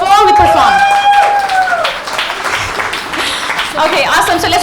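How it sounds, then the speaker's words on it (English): An audience at a sangeet celebration applauds the choreographer, dense clapping and cheering filling the room loudly alongside voices and a tonal whoop, the burst easing midway before swelling again. "I want a round of applause for her before we perform."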